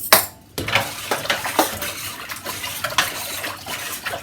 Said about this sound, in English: Oh, I've got to stir in the salt,